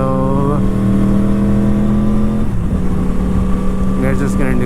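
A Yamaha R1 motorcycle rides on the mountain roads of Murree, its loud, close engine dropping pitch in distinct steps as it downshifts, then droning steadily, with a voice briefly heard near the end.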